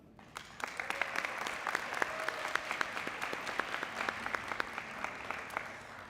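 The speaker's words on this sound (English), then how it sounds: "Let's give a huge round of applause to our ninth grade students" A crowd at a career institute declaration day applauds ninth grade students, a steady wash of clapping that starts abruptly and carries on evenly with a few sharp individual claps standing out.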